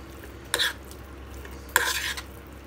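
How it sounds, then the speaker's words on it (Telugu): A spoon stirs salt into a raw ivy gourd chutney, giving two short scraping strokes about a second apart against a quiet background hum. "సాల్ట్ వేసుకొని కలుపుకోవాలండి."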